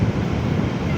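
Surf rolling onto a beach at General Nakar, Quezon, after a recent storm, a continuous close wash of waves mixed with gusty wind buffeting the microphone, loud and steady across the short stretch.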